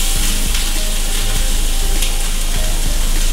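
Onions hit a hot pan in a home kitchen while zucchini noodles are being made, producing a loud, steady broadband sizzle with faint scraping clicks, close up and without talk.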